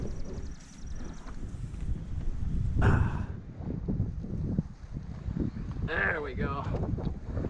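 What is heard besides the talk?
strong wind over a marsh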